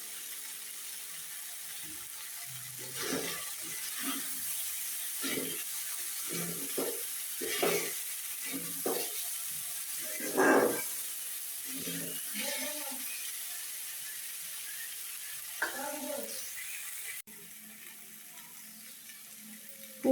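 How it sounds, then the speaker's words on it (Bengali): Malabar spinach, potato and eggplant frying in a pan, a steady soft sizzle broken by scattered stirring scrapes and clacks through the clip, close and moderately loud, with no talking. "পুঁই শাক, আলু, বেগুন আমার ভাজি করা প্রায় হয়ে গেছে।"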